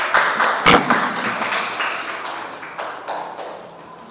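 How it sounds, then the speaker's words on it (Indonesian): An audience applauds a presenting student group in a classroom, a mixed patter of hands that starts fairly loud and gradually thins and fades. "Tepuk tangan untuk kelompok 2"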